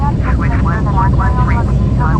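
An ATR 42-500 turboprop's number two engine spooling up during start in a flight simulator, a steady loud drone with rising tones under a voice giving start calls.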